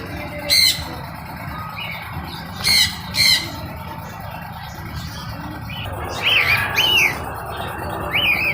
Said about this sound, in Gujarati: મીઠો મીઠો અવાજ આ લોકોનો સાંભળવાની મજા આવે